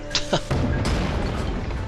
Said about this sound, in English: We'll shoot that cannon here in a second,